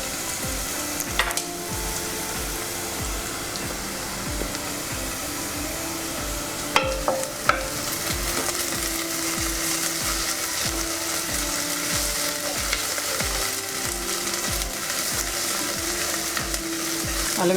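Ginger garlic paste frying with sliced onions in a hot pan for a brinjal prawn curry, a steady loud sizzle lasting throughout with occasional scrapes and clinks of a stirring spoon against the pan.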